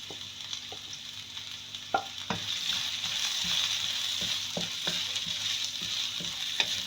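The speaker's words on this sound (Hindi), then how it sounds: "मैं शामिल करूंगी इसमें गाजरें। 2 मिनट में गाजरों को पकाऊंगी" Carrots sauté in hot oil for a vegetable rice dish, giving a steady close sizzle with occasional sharp scrapes and clicks of a spatula stirring the pan. No voices.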